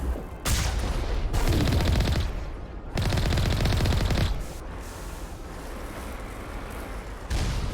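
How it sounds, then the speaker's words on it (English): Machine-gun fire in the video game Mass Effect rattles in loud, dense sustained bursts separated by short gaps, with a softer continuous stretch of firing toward the end and no talking. "machine gun."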